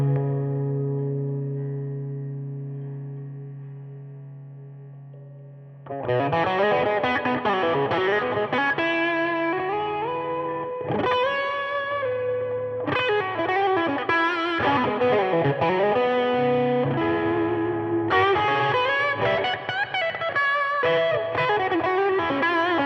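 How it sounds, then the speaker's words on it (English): An electric guitar plays through a pedalboard with a Tube Screamer overdrive, delay and reverb. A sustained clean chord rings out first, then distorted riffs and bends follow with echoing tails, loud and close, with no talk. "we'll put the tube screamer on with the delay and the reverb"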